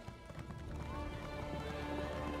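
Horse hooves clip-clop steadily at a stable in The Elder Scrolls Online, a continuous rhythmic clatter sitting under a busy, dense game soundscape with ambient noise throughout.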